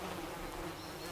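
Dark British black bees buzzing around an upturned wicker skep, a faint steady insect hum from several bees with no voices.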